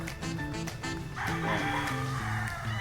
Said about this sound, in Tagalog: Ito po yung isa sa mga brood stag o brood cock